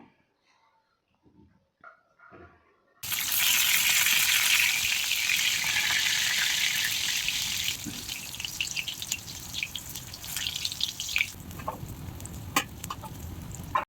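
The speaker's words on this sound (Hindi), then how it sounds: "तापरे से कढ़ाई रे का तेल गरम हो गला परे दे देली पुटल। तापरे पुटल के टिके भल से फ्राई करमा।" Pointed gourd sizzling loudly in hot oil in a wok, a steady close crackling hiss that starts abruptly after a quiet moment of faint clatter and keeps going.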